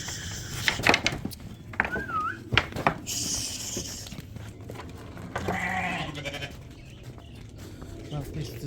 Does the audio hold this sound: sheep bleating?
yes